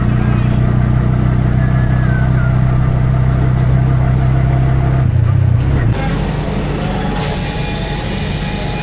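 An auto rickshaw on a road trip through traffic toward the Ekvira temple, its engine droning loud and steady at close range. The rumble shifts midway as the vehicle changes pace among surrounding traffic.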